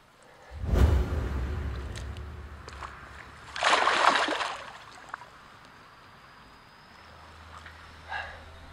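A carp is let go back into the water from the bank at night, making a sudden splash followed by a second softer slosh, with faint water movement after.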